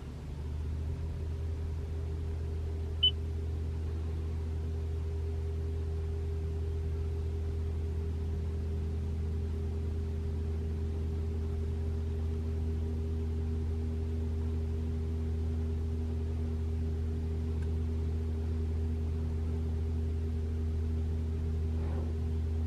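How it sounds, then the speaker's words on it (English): A 2021 Toyota RAV4 Prime heat pump running in EV mode on a cold morning gives a steady low hum with constant tonal drone, even and unchanging throughout, with no talk over it. "it won't make noise anymore, man. It's just the heat pump humming."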